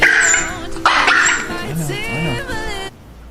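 A dog yelps and whimpers in pain during a chiropractic spine adjustment, a close run of sharp high cries and whines over roughly three seconds.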